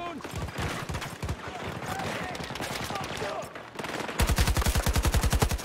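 AK-24 rifle with a drum magazine firing in Battlefield: rapid automatic bursts over dense battle noise, ending in a loud, steady, evenly spaced stream of close shots.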